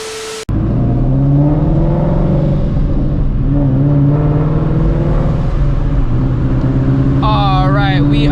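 A Shelby GT350 Mustang fitted with a ProCharger P1R supercharger drives on the road, its loud steady engine drone and whine holding throughout after an abrupt start, with a voice entering near the end.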